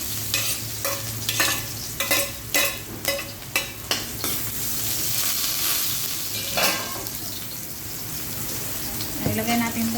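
Papaya being sautéed with onion, garlic and ginger in a pan, with a run of sharp spatula scrapes and stirring knocks over a steady sizzle that carries on alone.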